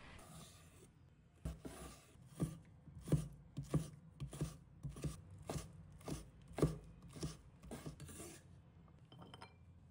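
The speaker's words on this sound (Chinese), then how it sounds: "1条腊肠，把它切成小粒" A knife dicing a Chinese sausage into small pieces on a cutting board, giving a steady series of close, firm chops at an even pace with no voices.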